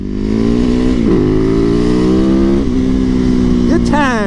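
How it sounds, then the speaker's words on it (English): A Yamaha YZ supermoto motorcycle being ridden holds a loud, steady engine drone nearby, with a couple of brief dips as the throttle shifts and a rising rev near the end. "I love the YZ Supermoto."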